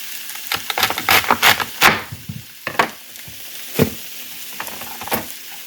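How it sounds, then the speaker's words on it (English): A knife chops celery on a cutting board in bursts of quick, crisp strikes, some clustered and some spaced out, close up and with no talking. "so we're going to go ahead and cut this celery up"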